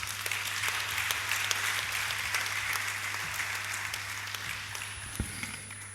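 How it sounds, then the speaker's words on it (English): An audience at a student union leader's inauguration ceremony at the University of Ibadan applauds steadily for several seconds, a dense even wash of clapping with a constant low hum underneath. "another big round of applause for such a brilliant envisioning"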